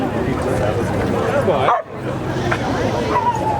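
Dog barking and yipping amid crowd chatter at a country fair dog show, several sharp barks close by under a continuous murmur of voices.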